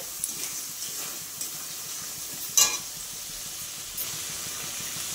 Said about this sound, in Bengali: এবার দেখো আমি মশলার বাটি ধোয়া জল একটু দিয়ে দিচ্ছি।